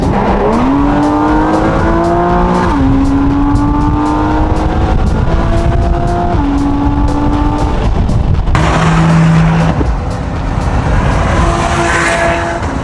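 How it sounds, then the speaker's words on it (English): A Mercedes-AMG GT sports car accelerating hard, engine rising through gears with clear shift breaks, loud and close, with a change in tone near the end as it passes on the road. "This and the AMG GT sounds so good."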